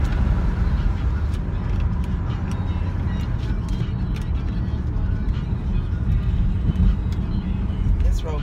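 A car driving over a bumpy road in Austin, Texas, with a constant low road rumble and scattered sharp knocks and rattles from the bumps, close and steady throughout, with faint talk underneath.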